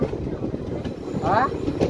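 Low rolling rumble of a train at a railway station on the Nalbari to Bongaigaon line, steady and fairly close, with faint wheel noise and a brief squeal among background voices.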